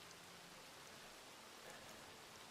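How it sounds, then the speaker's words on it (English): Steady rain falls in a video game, a soft, even hiss of raindrops that runs unbroken and faint throughout, with no voices. "It's always fucking rain here."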